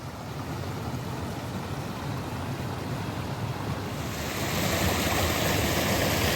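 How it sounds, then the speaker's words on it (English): Fast-flowing water forced through a narrow channel on a Peak District moorland walk at Broad Clough roars in a constant loud rush nearby. It swells louder toward the end, with some wind buffeting the microphone. "There's massive force behind this water, and yet it's in this incredibly narrow channel."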